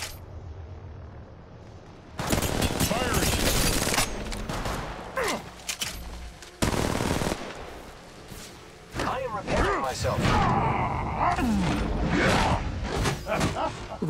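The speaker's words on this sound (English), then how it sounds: "The enemies are shooting at me. I am taking fire. Getting shot." Enemy gunfire in the mobile battle royale shooter Apex Legends Mobile during ranked play, loud bursts of rapid automatic shots arriving in several long volleys with brief quieter gaps between them.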